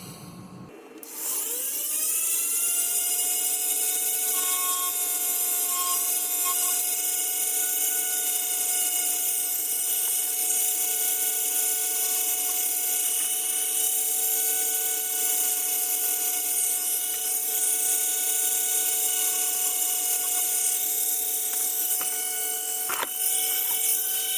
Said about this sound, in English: It's just the right size for the drill. So just got to start drilling.